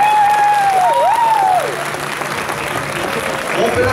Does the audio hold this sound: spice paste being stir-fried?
no